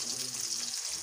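Fish frying in a pan gives a steady, close sizzling hiss throughout, with a faint low hum beneath it.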